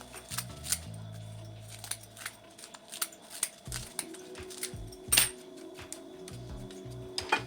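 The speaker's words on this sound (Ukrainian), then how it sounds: "Нарізаю ножицями нурі, на шматочки довільної форми, викладаю зверху." Scissors snip repeatedly through a nori sheet at close range, a series of sharp crisp cuts in an uneven rhythm, against a low background hum.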